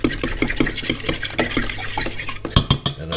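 Eggs seasoned with pepper are whisked with a fork in the pan, producing a quick rhythmic run of close metallic clicks and taps that ends in a few louder knocks, with no voices.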